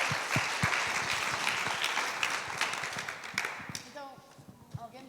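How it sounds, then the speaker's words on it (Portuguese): A church congregation gives a round of applause, dense clapping that fades out after a few seconds and gives way to people talking. "Uma salva de palmas a ele"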